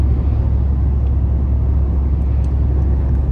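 A Chevrolet Onix Activ with a manual gearbox accelerates uphill, its engine a loud, steady low rumble heard from inside the cabin, with no talking.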